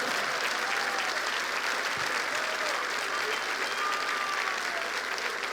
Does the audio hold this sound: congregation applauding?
yes